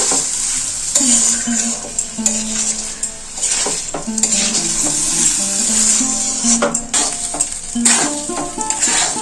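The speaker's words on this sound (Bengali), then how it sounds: "পেঁয়াজ আদার সাথে চালটা একটু কষিয়ে নিলাম" Basmati rice is stirred and fried with onion and ginger in a pan, with steady sizzling, scraping and clinking of the spoon against the metal, close and fairly loud with irregular bursts of stirring.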